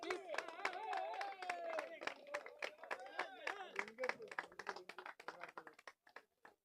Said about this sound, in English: Give a round of applause for all the people,